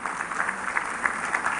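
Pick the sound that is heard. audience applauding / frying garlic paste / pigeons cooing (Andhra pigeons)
audience applauding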